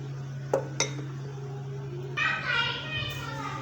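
Spoon scraping and clinking in a pan as homemade garlic chutney is lifted out, two sharp knocks followed by a stretch of metallic scraping over a steady low hum, with faint voices in the background.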